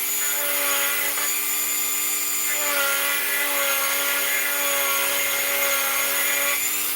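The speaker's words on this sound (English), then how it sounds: "I'm only sanding that one little edge." A customer's 1929 Walking Liberty half dollar being turned into a size 8.75 coin ring has its inside edge sanded, giving a steady, close, continuous high whirring drone with a tonal hum, no pauses.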